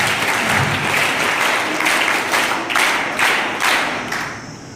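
An audience at a summer fitness camp session claps for Dada, a dense, loud round of applause that holds steady for several seconds and then starts to fade.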